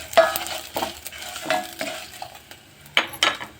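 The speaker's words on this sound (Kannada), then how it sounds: "ಇವಾಗ ಮೆಣಸಿನ್ಕಾಯಿ ಹಾಕಿ ಫ್ರೈ ಮಾಡ್ಕೊಂಡು" Green chilies frying in a pan, stirred with a utensil that scrapes and clinks irregularly over a light sizzle, close and moderately loud, with no talk.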